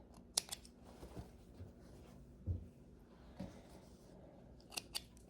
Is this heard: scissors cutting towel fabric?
yes